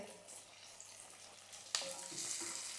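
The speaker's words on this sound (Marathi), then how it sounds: "आता आपल्याला याच्यात हे टोमॅटो टाकायचं आहे आणि टोमॅटो पण आपल्याला चांगलंसं नरम करून घ्यायचं आहे" Tomatoes hit a pan of softened onions, a soft steady sizzle that jumps in brightness as they go in, then keeps frying close by.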